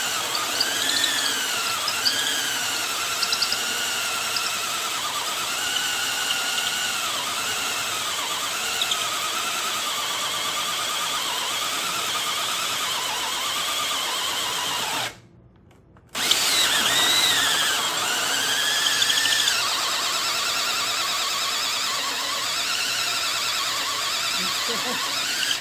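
A battery-powered drill sanding a wooden box whines continuously at close range, its pitch wavering under load, cuts out briefly, then resumes until the battery dies.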